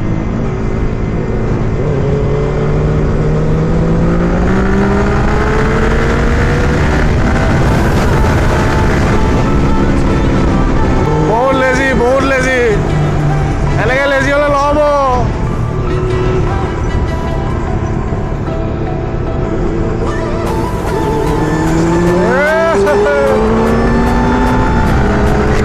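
A motorcycle doing a burnout in a river at Dhemaji, Dimow, revs loudly and repeatedly, its engine pitch swooping up and down in close bursts with a constant roar underneath.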